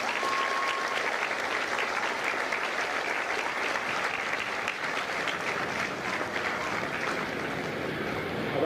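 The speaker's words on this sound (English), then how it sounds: "please join me in a well-deserved round of applause for the drill instructors and the families of Charlie Company." A large crowd applauds without a break at a Marine Corps Recruit Depot San Diego graduation for Charlie Company. The clapping forms a dense, even roar that holds steady throughout.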